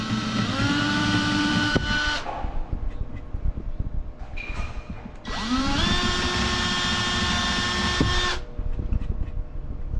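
A small drill bit, 1/8 inch up to 1/4 inch, boring slowly into a DIY fingerboard bench, with two long steady whining runs of the motor rising in pitch and a quiet pause between them, loud and close.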